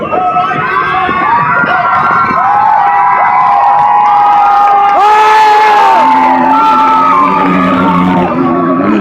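A motocross crowd shouts, whoops and cheers loudly and continuously, close and dense, with many overlapping voices including children's.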